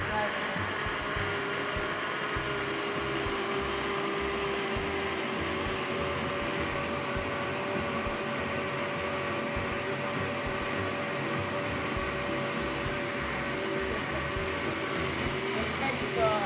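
A kitchen blender runs continuously at moderate level, a steady motor whir throughout while ingredients are blended, with a faint shift near the end.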